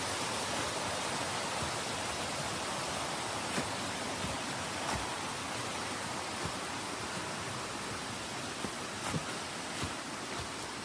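Constant rushing water noise of a flowing stream near the Sulphur Springs Trail, Paris Mountain, filling the whole clip with a few faint ticks and knocks over it.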